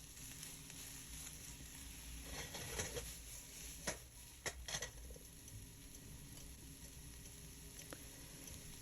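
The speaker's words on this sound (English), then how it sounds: "I'm just flash frying these as quickly as possible" Vegetables flash-fried quickly in a hot pan before noodles are added: a steady broadband sizzle throughout, with a few sharp pops and spatters in the middle and a quieter crackle later.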